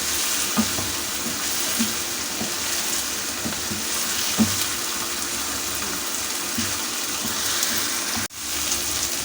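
Potatoes and spinach cooking in a pan as a vegetable dish, giving a steady, even sizzle throughout with occasional soft stirring knocks and one sharp clatter near the end.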